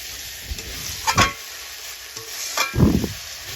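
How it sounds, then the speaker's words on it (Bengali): Spice masala is stirred and fried in a pan for a potato breakfast dish: a soft sizzle under a few distinct scraping strokes of the spoon, close by and unaccompanied by speech. "মশলাটা আমি এবার ভালো করে কষিয়ে নেব।"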